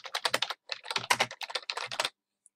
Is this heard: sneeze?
no